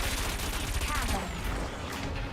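Cannon weapon firing in the racing game Wipeout Omega Collection, a rapid burst of punchy gunfire-like shots over engine noise and game effects, loud and close.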